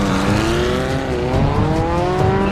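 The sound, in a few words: motorcycle chase in film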